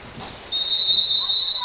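Referee's whistle at a women's Serie A roller hockey match, Newco Roller Matera against Hockey Valdagno, a single sharp, loud blast held for over a second over arena noise.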